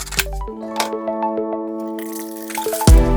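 Olive brine drains from a cut-open plastic bottle into a kitchen sink basin, giving wet glugging drips and squishy splashes at close range, ending with a louder splash.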